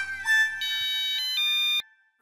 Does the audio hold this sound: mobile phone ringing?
yes